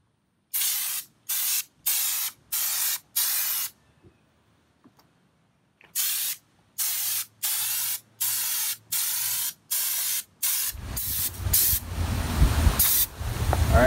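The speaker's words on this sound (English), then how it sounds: "now we're just gonna give it the second coat and see how it turns out." Spray paint hisses onto an Xterra Raptor in a series of short, evenly spaced bursts for a second coat, then a longer continuous spray with rougher mechanical noise building toward the end.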